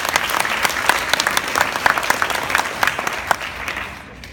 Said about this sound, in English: If we give him a round of applause.